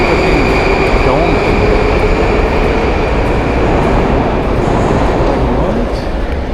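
Metro train at Alisher Navoi station on the Tashkent subway, a loud continuous rumble of a car in motion with faint rail hum and occasional wheel tones, steady throughout.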